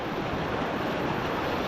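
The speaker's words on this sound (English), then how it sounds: "Headwinds are always here." Steady headwind rushes across the Devils River, a continuous broadband roar of wind buffeting the microphone with no pauses, loud and close, with no voices.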